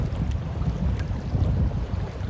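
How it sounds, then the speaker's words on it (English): Wind buffets the camera on a fishing boat in cold, rough weather, a loud, continuous low rumble with gusty mic noise and faint water sounds, no talking. "the wind blowing the camera around so good."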